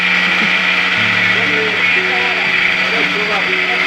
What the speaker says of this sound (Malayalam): അവർക്ക് മിക്സിയിട്ട് അരക്കുന്നുണ്ടായിരുന്നു.